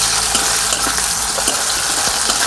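Cumin, onion and tomato frying in hot oil in a pan, a loud, steady hiss and crackle of sizzling with faint stirring, close and continuous.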